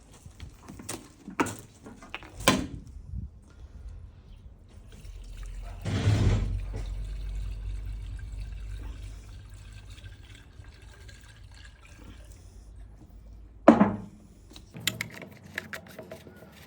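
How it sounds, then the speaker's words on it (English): Brake cleaner is sprayed and poured into a car coolant tank in a hissing, filling rush of several seconds, bracketed by sharp clicks and knocks. "Fill up with brake cleaner."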